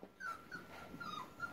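Airedale Terrier puppy whimpering in short, high, thin whines, close and quiet, repeated several times over a brief moment.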